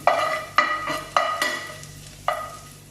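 Garlic frying in a pan, a close bright sizzle marked by a handful of sharp utensil strikes and scrapes against the pan as it is stirred, each followed by a fading hiss.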